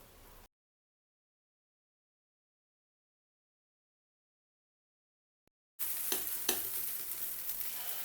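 Appe batter sizzling and frying in a hot appe pan, a steady close crackle that starts after a long silence and continues to the end.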